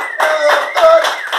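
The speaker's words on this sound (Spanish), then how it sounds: "Le damos un fuerte aplauso." A television studio audience applauds a doctor on a talk show, with bursts of clapping over a steady tonal background.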